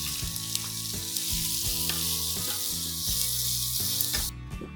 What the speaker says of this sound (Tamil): இப்போ இந்த கேபேஜ் சேர்த்துக்கிறேன்